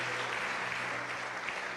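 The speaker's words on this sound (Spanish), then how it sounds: "¿Cuántos pueden darle un aplauso fuerte al Señor por eso?" A church congregation claps in steady, dense applause for its full short length, sounding moderately distant with no voices over it.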